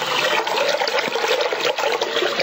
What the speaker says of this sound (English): So the first thing we want to do is we want to fill up a bowl here